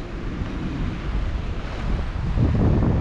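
Sea breeze blowing steadily at a coastal spot near a lagoon in Bobon, Northern Samar, a low continuous rumble of wind buffeting the microphone with a faint wash of surf underneath.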